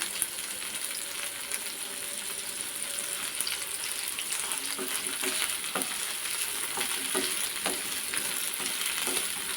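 Tamarind and coconut being sautéed in a pan for a sundakkai (turkey berry) chutney, giving a steady low sizzle broken by scattered scraping stir strokes, close and moderately quiet with no talking.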